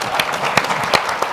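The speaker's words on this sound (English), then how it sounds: "Please give him a round of applause." Applause rises at a diversity luncheon as a speaker is welcomed, loud, close, dense clapping with a few sharper individual claps standing out over just over a second.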